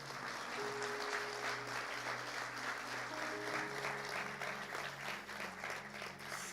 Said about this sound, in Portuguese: Quem está entendendo, dá uma salva de palmas,